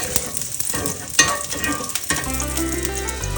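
Garlic sautéing in a hot pan for a vegetable kurma. Sizzling and frying sounds continue without a break, with stirring scrapes and a faint tonal hum rising near the end.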